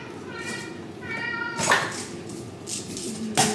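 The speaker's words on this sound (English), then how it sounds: "My cats are gonna be loud because it's bird hour." Pet cats meow loudly and insistently indoors at bird-watching time, with several drawn-out, wavering meows and sharp calls in quick succession near the listener, over faint household background.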